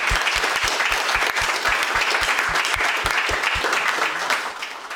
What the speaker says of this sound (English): Perhaps a round of applause for all of our panelists today.